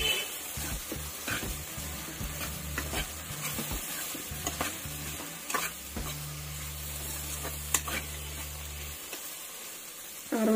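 Chili powder sizzling in a pan of brinjal and dry fish curry, with steady frying hiss and intermittent stirring scrapes close by, a low hum underneath; no talking.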